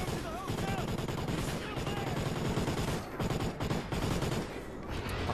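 Rapid automatic gunfire and bursts of shooting fill a Call of Duty Ghosts campaign mission, a dense, loud, continuous clatter with brief lulls, with a player's voice speaking over the action.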